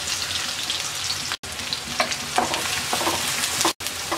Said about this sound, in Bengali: রসুন আর পেঁয়াজটাকে 1 মিনিট ভেজে নেব।